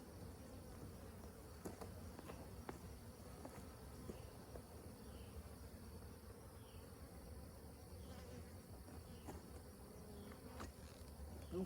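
Honey bees drone steadily around a hive just after an oxalic acid vapour treatment against varroa mites, a dense, continuous buzz with individual bees passing close now and then.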